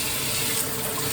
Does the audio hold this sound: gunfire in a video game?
no